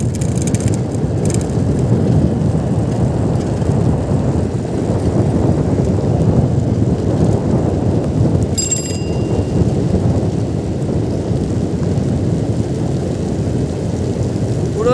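Heavy rain pours over a forest in a steady loud roar with a low rumble of thunder underneath, plus a brief faint bell-like ring partway through.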